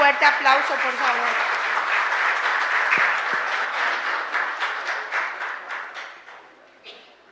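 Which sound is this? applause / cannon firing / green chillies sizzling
applause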